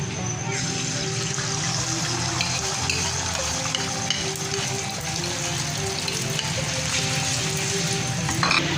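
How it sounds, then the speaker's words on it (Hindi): Beaten egg fries in ghee for an anda shami burger, giving a steady, close sizzle and bubbling crackle that holds at an even level without pause. "अब थोड़ा सा हम घी डालेंगे। अब अंडा डालेंगे।"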